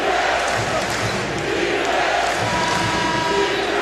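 A basketball crowd in an old arena during a Louisville vs. Florida State game roars loudly and steadily, a dense wall of cheering and shouting with no lulls.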